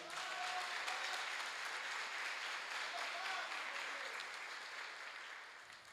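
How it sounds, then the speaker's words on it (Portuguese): Applause from a church congregation for a man during a sermon, a steady, dense patter of clapping that fills the room for several seconds and tapers slightly at the end, with a faint voice underneath. "Uma salva de palmas para este Senhor."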